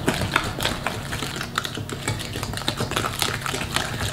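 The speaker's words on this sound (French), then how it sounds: "Et on continue à mélanger." Cookie dough with butter and a whole egg being stirred in a bowl, a steady stream of soft scraping and tapping clicks from the spoon, fairly close and continuous with no talk.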